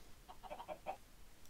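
Minecraft chickens give several quick soft clucks in a short cluster, faint and close, then quiet.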